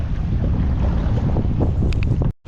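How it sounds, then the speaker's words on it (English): Strong sea wind buffets a kayak fishing ski off Umdloti, a steady roaring rush of gusts and water with a few faint clicks, then a brief drop-out near the end. "the wind is blowing me in"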